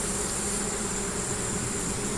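Honey bees fan their wings on a hive frame of brood and honey, making a dense, continuous buzzing drone, close and loud, with no voices over it.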